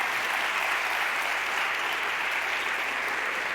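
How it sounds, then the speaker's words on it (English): Steady applause from a graduation ceremony audience fills the hall, dense and sustained with no breaks, loud and close throughout. "A round of applause for them, please."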